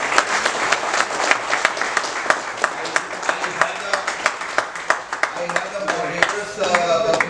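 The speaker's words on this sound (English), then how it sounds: "I think Dr. Chauhan deserves a round of applause." An audience at a medical talk on simplifying diabetes with linagliptin claps loudly for Dr. Chauhan, sharp individual hand claps standing out over a full round of applause that runs for several seconds before a voice begins to speak near the end.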